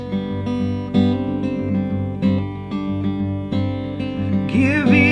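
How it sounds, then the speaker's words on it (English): Acoustic guitar accompaniment for a Psalm 5 worship song: strummed chords in a steady rhythm, close and fairly loud, with a brighter, busier flourish near the end and no voice. "So with the guitar, it sounds like this."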